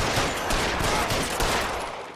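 Dense gunfire in L.A. Noire crackles in a continuous barrage, loud and close, with overlapping rapid shots and no talk over it.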